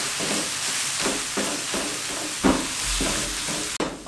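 Boiled, mashed potatoes are stirred into vegetables in a pan over the flame for a tawa veg burger filling, giving repeated scraping and stirring strokes with a soft sizzle throughout and a louder knock near the end.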